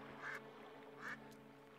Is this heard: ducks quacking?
yes